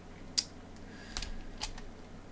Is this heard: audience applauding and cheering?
no